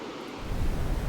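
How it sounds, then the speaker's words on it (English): An ocean background sound from macOS Ventura gives a broad wash of surf, with a low, rumbling swell rising partway through and holding steady after. "ocean"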